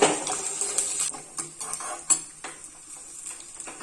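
A metal spoon clinks repeatedly against a pan as tempering spices are stirred in hot ghee: green chilies, dried red chilies, curry leaves, peppercorns and ginger, for a Dasara festival offering. Sharp, close, irregular knocks sit over a faint hiss.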